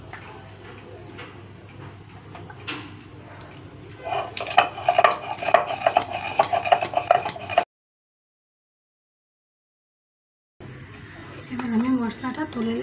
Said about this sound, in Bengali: এবার আমি মশলাটা বেটে নেব।